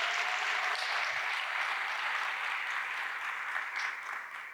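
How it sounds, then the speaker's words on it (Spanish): A comedy-show audience gives a welcoming round of applause, dense and sustained clapping from a crowd, fairly loud and even, tapering slightly at the end with no talk over it. "¿Qué tal si le damos un aplauso de bienvenida a todos ellos?"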